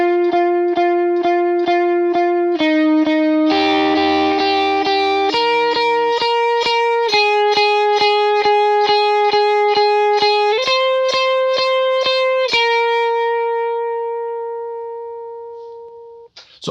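An electric lead guitar with effects plays the bridge part of a song in long sustained notes, with a brief burst of distorted picking, before the final held note fades out.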